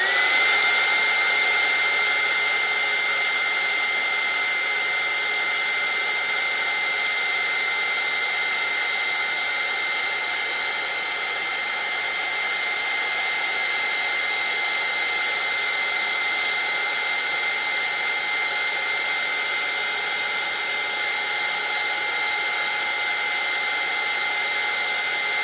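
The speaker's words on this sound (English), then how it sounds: "I have to use the heat gun now to heat this up" A heat gun blows hot air onto altered playing cards in a steady, loud, unbroken whoosh that holds evenly from start to finish with no pauses.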